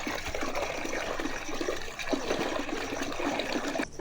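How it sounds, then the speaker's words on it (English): Water is stirred together with molasses to make home-made poultry feed, giving a steady, continuous sloshing and trickling of liquid, fairly quiet and without speech. "So the first thing we'll be mixing water with together with molasses."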